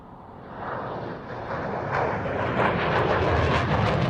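A Swedish military jet with a canard double-delta design flies at the RAF Waddington Airshow 2014. Its engine roar swells steadily louder over a few seconds as it approaches, with no voices heard.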